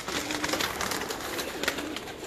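Pigeons coo softly in a large loft in Pakistan, several birds murmuring in overlapping low calls over a steady background hiss.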